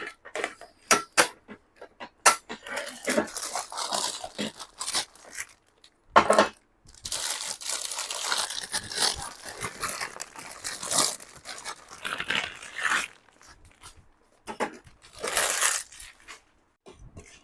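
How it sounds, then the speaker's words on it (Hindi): Polythene wrapping is pulled off and crumpled from a 1000 W Sujata MG 02 mixer grinder, with close, irregular bursts of crinkling, rustling and tearing separated by short pauses. "यहाँ पर जल्दी से सबसे पहले पॉलीथीन को रिमूव कर देता हूँ"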